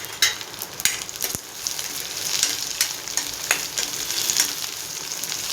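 Carrots, cabbage and capsicum fry in a pan with a loud, steady sizzle, broken by a few sharp clicks from stirring, and no voices.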